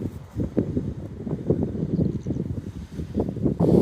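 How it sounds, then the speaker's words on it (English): Wind buffets the microphone in a steady, rumbling roar at a seafront on the Hemsby coast, gusting louder toward the end, with no one speaking. "It's very windy here"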